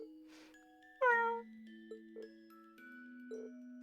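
A cat meows in the video game The Legend of Heroes: Trails of Cold Steel: a few short, soft mews, then one louder, clearer meow, with faint chimes and tones in the game's background.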